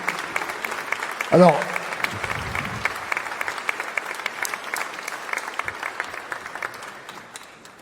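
Audience applause at a wind orchestra concert, a steady crackle of many hands clapping that slowly thins and fades, with a voice speaking briefly over it near the start.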